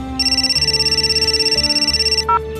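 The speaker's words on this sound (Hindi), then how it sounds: "अब भाभी का फोन है," A telephone rings loudly and steadily in a home during an incoming call from a sister-in-law. The tone pulses rapidly for about two seconds, then a short higher beep follows, with no talking.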